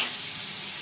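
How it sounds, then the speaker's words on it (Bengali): Grated ginger stir-frying in hot oil, a dense, even sizzle heard up close for a brief moment, with no talking. "আদাটা আমি তেলের মধ্যে কিছুক্ষণ কষিয়ে নেব যতক্ষণ না আদার কাঁচা গন্ধটা চলে যায়।"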